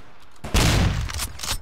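Loud bursts of RSA rifle fire in the APB Reloaded game, a sudden heavy volley followed by a few more sharp shots.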